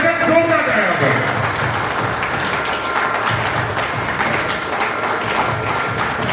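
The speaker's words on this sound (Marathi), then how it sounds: "सर्वांनी टाळ्या वाजवतात जोरदार टाळ्या वाजवा" Audience clapping for a felicitation at a Marathi public event honouring an official, a steady dense wash of applause throughout, with a voice also present over it.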